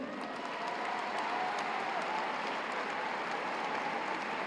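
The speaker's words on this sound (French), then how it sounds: "je vais vous demander s'il vous plaît d'applaudir une nouvelle fois dans le coin rouge" An audience at an elite savate boxe française final gives a steady, dense round of applause for the boxer in the red corner, a continuous crowd clatter that holds at an even level throughout.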